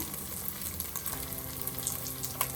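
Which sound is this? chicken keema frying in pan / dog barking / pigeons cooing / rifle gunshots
chicken keema frying in pan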